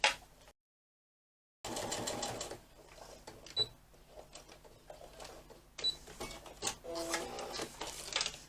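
A sewing machine runs a longer stitch along a fanny pack seam, giving a rapid close mechanical patter after a brief gap of silence, with small clicks and shifts in speed.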